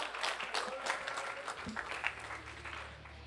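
An esports tournament audience claps continuously, a soft, distant patter of applause with a low hum underneath.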